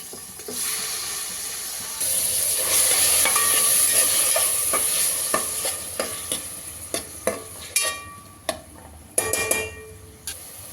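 Tomatoes go into a hot cooking pot for a wedding-style thili saaru, and the pot bursts into a loud sizzle. A spoon then stirs with repeated scraping clacks as the frying settles.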